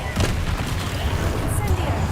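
A blasting spell cast in Hogwarts Legacy bursts with a dull booming impact over a steady low rumble of game ambience, a short explosive hit standing out among continuous background sound.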